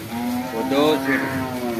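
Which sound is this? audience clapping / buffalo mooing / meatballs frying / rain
buffalo mooing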